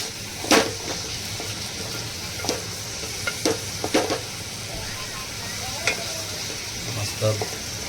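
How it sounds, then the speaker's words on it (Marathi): Chopped carrot, cabbage and spring onion frying in a pan over low heat for chicken soup, a steady soft sizzle running throughout with occasional sharp stirring scrapes and taps of a utensil against the pan. "मस्त बारीक ह्याच्यावर बारीक गॅसवर फ्राय करायचं आहे अशा तऱ्हेने."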